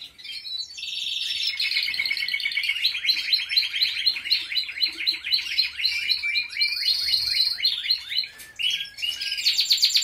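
Four hungry nestling birds beg for food with rapid, high-pitched chirping in a dense, pulsing series that runs nearly continuously, loud and close, with brief pauses and no talking.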